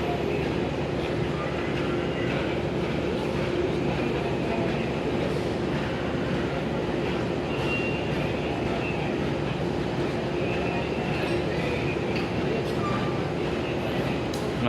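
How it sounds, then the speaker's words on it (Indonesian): Train carriages, an economy coach and a stainless steel coach, being coupled into a passenger rake at a station: a steady low rumble with faint clanks and voices in the background, continuous throughout. "proses pemasangan rangkaian ke dalam dari gerbong ke rangkaian"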